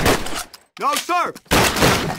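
Call of Duty gunfire, with loud close bursts of shots at the start and again at the end and a brief break between them. Someone talks over the middle section.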